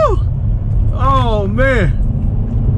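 A 2019 Hyundai Veloster N engine accelerates hard in first gear, its note climbing in two rising surges as revs build, loud and close inside the car with a voice briefly over it.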